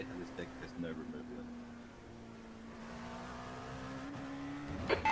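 A steady race car engine whine hums throughout in a racing video game, with traffic audible behind, the pitch dipping and then climbing again before a short, sharp burst at the close.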